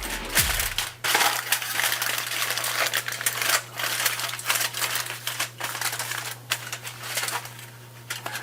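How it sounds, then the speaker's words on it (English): Aluminium foil wrapped tightly around a dish of mac and cheese with bacon, heard close up as continuous crinkling and crunching with short pauses, steady throughout and with no voices. "And now we want to wrap this in some foil"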